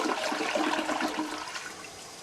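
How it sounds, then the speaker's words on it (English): A toilet flushes in a remodeled bathroom, a steady rushing swirl of water that is close and moderately loud, fading slightly toward the end. "It used to be that you could just lightly tap toilet handles and it would flush."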